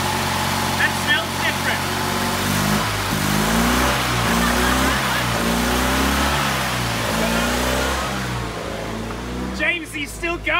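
Car engine running on a kerosene fuel blend, revving and wavering in pitch with a loud, uneven drone that keeps going, then fading near the end as people talk around it.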